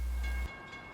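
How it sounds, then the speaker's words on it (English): Empty northbound CSX coal train led by locomotive 808 at Folkston, running toward Nahunta: a heavy, close low rumble that cuts off abruptly after about half a second, leaving a quieter wash of track noise. "A northbound empty drag with CSX 808 in charge blasted through going up the Nahunta."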